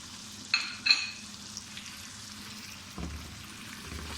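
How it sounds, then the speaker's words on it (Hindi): Spiced vinegar chicken frying in a pan, giving a steady low sizzle with a few brief stirring clinks near the start and a soft scrape later. "थोड़ी देर के लिए इसको भूनेंगे।"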